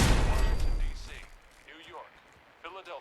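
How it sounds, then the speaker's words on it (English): A loud, heavy gunshot blast booms at the start in a video game and dies away over about a second, then quieter voices follow. "we heard a couple of gunshots"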